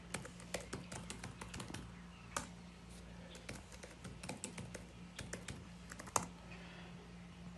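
Password typed on a computer keyboard, quick irregular bursts of close key clicks with brief pauses, fairly quiet, no talking.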